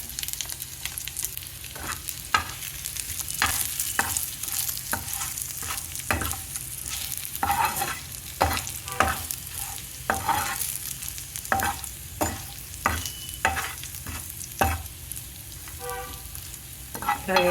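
Spiced murrel fish fry sizzling in a pan after a sprinkle of salt, chilli powder and garam masala, with steady crackling frying under repeated scraping strokes of a spatula stirring the pieces, close and fairly loud, no talking.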